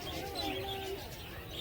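At a pumpkin patch, birds give soft cooing, pigeon-like calls and a few chirps close by, steady and low over a murmur of background voices.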